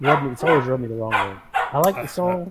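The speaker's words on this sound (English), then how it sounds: "I apologize for the dogs barking in the background." Dogs bark in the background of an indoor conversation, short yips and barks mixed beneath clear, steady talking.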